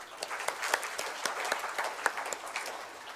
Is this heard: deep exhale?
no